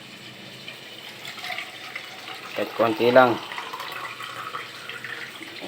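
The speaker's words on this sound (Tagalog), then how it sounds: "bigyan natin tubig" Water is poured into a cooking pot with sardines, a short splashing gush in the middle of the clip, with a person talking quietly around it.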